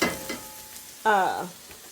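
Carrots fry in a pan of oil with a low steady sizzle, while a stirring scrape and a short squeaky, voice-like tone rise midway.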